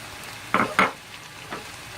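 Minced keema frying in a pan after finely chopped ginger and green chilies go in, with a quiet sizzle broken by two close stirring scrapes and a softer third one.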